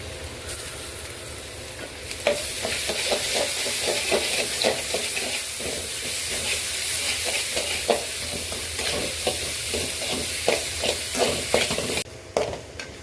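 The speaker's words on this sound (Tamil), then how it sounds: "இந்த மாதிரி லைட்டாக கலர் சேஞ்ச் ஆனதும் நம்ம அரைச்சி வச்சிருக்க இஞ்சி பூண்டு பேஸ்ட்டு நம்ம ஆட் பண்ணிக்கலாம்." Ginger garlic paste fries and is stirred in a pan for a West Bengal-style creamy chicken gravy, an even hiss and sizzle broken by rhythmic spatula scrapes and taps, close and without talk.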